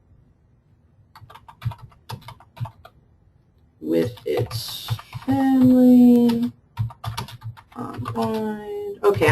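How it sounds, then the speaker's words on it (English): Rapid clicking of keys on a computer keyboard as someone types answers into a vocabulary learning program, heard in quick bursts under an ongoing talking voice. "I'm typing as if I was the student"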